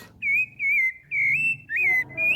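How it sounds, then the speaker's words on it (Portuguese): A rufous-bellied thrush sings clear, whistled phrases, about five fluting notes in a row separated by short pauses, close and bright against a quiet background. "O canto da sabiá laranjeira é caracterizado por uma grande variedade de notas, incluindo trincados, assobios"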